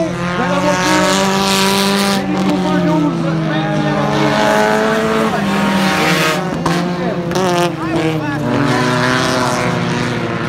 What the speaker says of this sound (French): Dernier tour de piste à terre, est-ce que Joël va tenter le dépassement dans le dernier virage en bas?